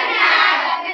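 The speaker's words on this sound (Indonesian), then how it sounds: "Tepuk tangan dulu." A group of students clapping hands together in a classroom, a dense burst of close applause lasting about a second with no talking.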